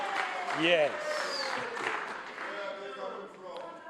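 A crowd applauds steadily during a provincial budget speech in Gauteng, a broad wash of clapping under a voice speaking a word and some cheering.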